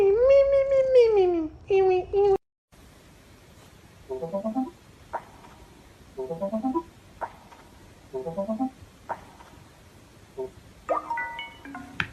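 A cat meows several times, short plaintive cries spaced a second or two apart, near and clear, with a voice talking at the start and again near the end.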